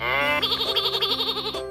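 A toy plays an electronic lamb bleat, a tonal, wavering baa with a short musical jingle underneath, loud and close.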